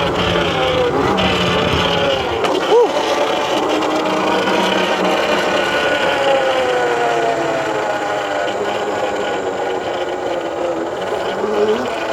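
A Yozma IN 10 budget mini electric dirt bike is ridden nearby, its motor a continuous whining hum that rises and falls in pitch with speed, loud and steady over wind and tire noise for the whole stretch.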